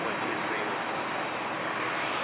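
An airplane taking off at Toronto Pearson (YYZ) airport: a steady, loud, broadband engine roar that holds evenly throughout the short stretch, with no pauses or distinct events.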